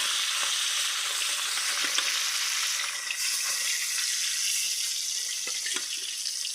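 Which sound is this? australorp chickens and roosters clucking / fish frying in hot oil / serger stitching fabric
fish frying in hot oil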